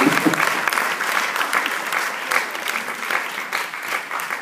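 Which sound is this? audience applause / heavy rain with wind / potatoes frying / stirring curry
audience applause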